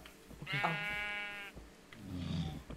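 A sheep in the Minecraft video game gives one drawn-out wavering bleat lasting about a second, followed by a shorter, lower bleat, both close and fairly quiet.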